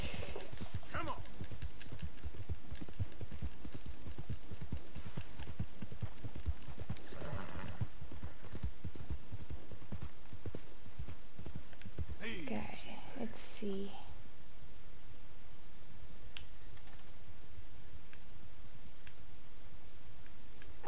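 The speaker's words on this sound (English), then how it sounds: "Oh, there's just horses." Steady clip-clop of horse hooves over a busy Red Dead Redemption 2 game soundscape, with a brief whinny partway through; a person talks intermittently over it.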